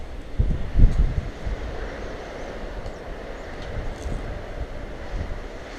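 Strong wind gusting outdoors in Portugal, a steady broadband roar with a louder buffeting burst near the start and no voices.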